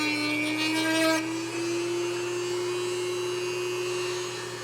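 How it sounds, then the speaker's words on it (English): A Dremel rotary tool fitted with a sandpaper flap bit whines at a steady high pitch while sanding a face shell, its tone wavering slightly as pressure on the piece shifts. "The Dremel bit is like this, it's like a sandpaper bit."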